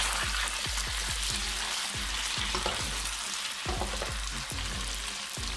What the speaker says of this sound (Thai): ก็ทอดไปเรื่อยๆ นะครับ กลับด้านนะครับให้สุกทั่วถึงนะครับ ให้มีความกรอบ ทั่วนะครับ